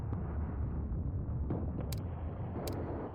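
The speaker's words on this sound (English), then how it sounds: "We can try out our mortars, maybe?" Mortar fire in the World War II tactical game Mius Front, heard as distant muffled thumps and booms beneath a dense, constant rumble of battle ambience, with a few sharper high pops; no talking.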